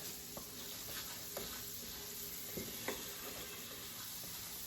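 Rice browning in a pan with about a tablespoon of butter, giving a steady low sizzle and faint frying crackle with occasional soft stirring scrapes, close and quiet throughout.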